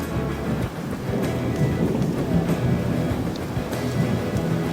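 A thunderstorm in Colón, Panamá, with steady heavy rain and low rolling thunder rumbling continuously, close and loud, with no voices.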